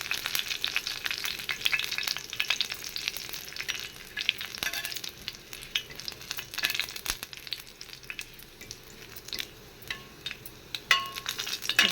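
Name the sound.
garlic frying and being stirred in oil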